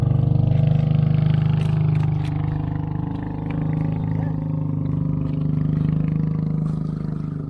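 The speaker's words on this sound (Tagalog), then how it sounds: "Bangkang demotor yung maririnig mong dumadaan." A motorized outrigger boat's engine drones past a fish pond, a steady low hum swelling and easing slightly as it travels by, moderately loud and continuous with no talk over it.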